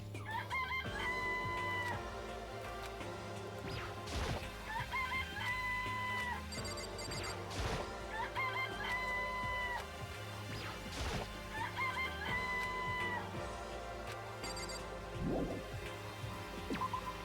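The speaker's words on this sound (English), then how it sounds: "Oh, you like chickens too, Makoto?" Chickens cluck and roosters crow repeatedly in Danganronpa: Trigger Happy Havoc, in a rhythmic looping pattern over game music with occasional sharp crashes and thwacks.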